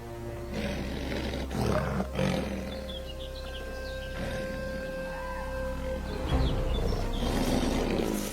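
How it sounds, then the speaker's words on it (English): An adult male lion on the African savanna lets out a deep roar, a series of heavy, rumbling calls with short gaps between them over faint outdoor ambience and distant bird chirps. "The deep roar of an adult male lion echoes across the plains"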